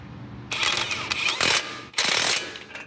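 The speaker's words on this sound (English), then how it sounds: "I'm again going to try and do this with the impact." An impact wrench tightens a 21 mm shock absorber nut on a Ford Expedition, giving loud, close rattling hammer bursts in two main runs separated by a brief pause.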